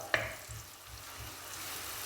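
Onions with green chilli frying in a pan for Kerala ginger curry, made for an Onam sadya: a faint, steady sizzling hiss, fairly quiet, with one brief clink near the start and no talk.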